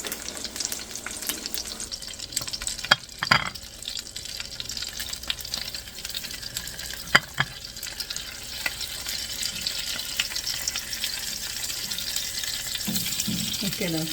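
Salmon fillet frying in a pan at home: a steady, hissing sizzle runs throughout, broken by a few sharp clinks and scrapes, with a voice talking now and then.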